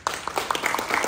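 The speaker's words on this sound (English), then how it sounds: "I would like to give a round of applause to Trista and Ty Lee for all the hard work." Brief round of audience clapping for two helpers at a conference, a handful of distinct, fairly close claps spaced out unevenly over about a second.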